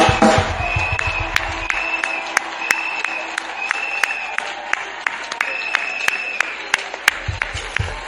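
A church congregation at a French-language preaching service claps and acclaims, sharp rhythmic claps ringing over a sustained crowd bed with tonal, echoing voices and loud bursts near the start and end.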